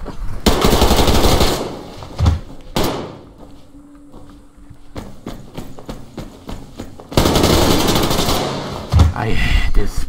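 Gunfire in the shooter game Survarium: dense bursts of loud close shots, with a quieter stretch of scattered single cracks in the middle, and speech partly mixed in.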